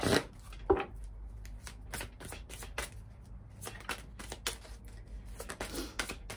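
Oracle cards being shuffled by hand, a quick run of soft papery riffles and flicks repeating close and quiet, with no talk over them.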